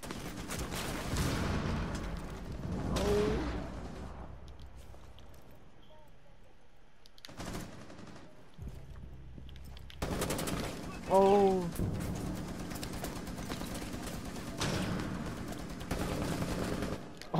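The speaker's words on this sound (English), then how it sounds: "they blasting" Rainbow Six Siege gunfire, bursts of automatic shots in several clusters with quieter gaps between, moderately loud, mixed with game sounds and occasional voices.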